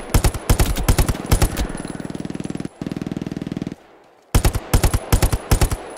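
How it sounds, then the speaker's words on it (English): Machine gun fire in Hell Let Loose crackles in loud, rapid bursts: a fast staccato burst, a steadier rattling stretch, a brief quiet gap, then another sharp burst near the listener. "Yeah, that's machine gun."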